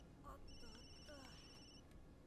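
A telephone rings in an anime episode, Mob Psycho 100, with short electronic ringtone tones sounding a few times over a brief span, faint and mixed with soundtrack sounds.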